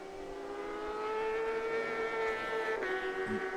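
Racing motorcycles on a track near the white-flag final lap on the front straightaway, a steady loud high-pitched engine whine that holds and shifts slightly in pitch.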